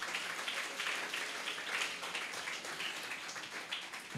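A church congregation claps along at a Tamil Christian service, a steady patter of many hands that stays even and moderately loud, with a faint voice underneath.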